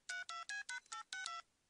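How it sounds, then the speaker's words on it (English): A telephone keypad is dialed in quick succession, about seven crisp beeping tones in an even rhythm, clear and close, with no one talking. "Damn phone's busted. Maybe I dialed wrong."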